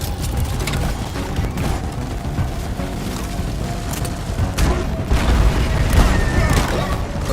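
A Heartstone explodes in the video game Deep Rock Galactic, a loud, sustained rumbling boom with dense crackling blasts that swell toward the end, no voices over it.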